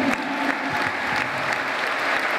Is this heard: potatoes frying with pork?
no